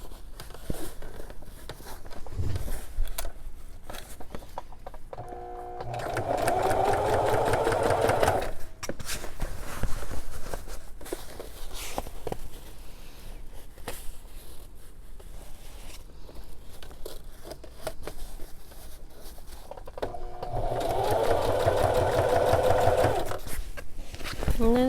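A sewing machine stitches a bridle bag in two close, steady runs of rapid mechanical whirring, separated by a quieter stretch where a person talks.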